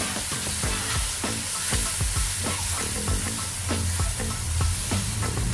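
Chicken sopas ingredients sauté in a pan with a steady, loud sizzle and frying hiss, while a utensil stirs and scrapes in repeated strokes throughout, with no talking.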